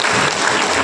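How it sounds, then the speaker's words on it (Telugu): A crowd claps steadily at a retirement ceremony for a police DSP, a loud, dense applause that fills the whole moment without voices. "అందరూ క్లాప్ చేయండి ఒకసారి. క్లాప్ చేయండి."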